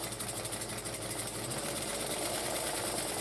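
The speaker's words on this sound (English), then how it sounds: "then I'm going to top stitch so it looks pretty. And then down the other side." A sewing machine runs continuously while top stitching textured vinyl fabric, giving a steady mechanical whir with a fast rhythmic chatter, close and alone with no talk.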